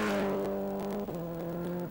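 A Subaru rally car on the RAC Rally held at full throttle, a strong, steady engine drone with a brief dip about halfway through as it shifts, then pulling hard again, fairly close and alone.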